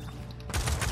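Strong gunshots from the Paladins video game, a short sharp burst of heavy fire erupting loudly after a quiet moment.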